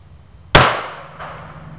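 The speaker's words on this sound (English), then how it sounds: "I'll be shooting into a 55-gallon drum with 4 layers of denim" A single sharp, loud shot from a .380 Corbon pistol with a short barrel fired into a 55-gallon drum packed with four layers of denim, followed by a brief ringing decay.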